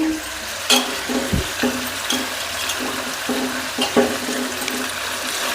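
A spoon stirs salt into a pot of dried-fish curry, giving a run of soft wet scrapes and clinks in an uneven rhythm over a gentle simmering bubble, close by, with no voices.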